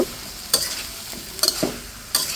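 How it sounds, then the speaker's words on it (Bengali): Mixed winter vegetables with flat beans, cucumber and green chilies stir-fry in a pan, with a soft sizzle under several quick scraping stirs of a spatula, close and distinct. "এখন দিয়ে দিচ্ছি সিম শসা কাঁচামরিচ এখন এটা দিয়ে আরও কিছু সময় কষিয়ে নেব"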